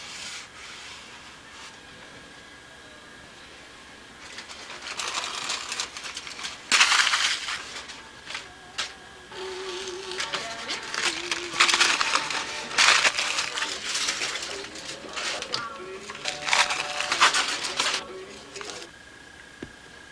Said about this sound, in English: Right now, in pulling off the tape, there's only one bad spot I can see right here.